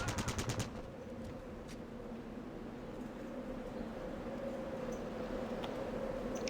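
A short rapid burst of automatic gunfire in Fallout Tactics, about half a dozen quick evenly spaced shots, followed by a low steady hum with faint scattered clicks.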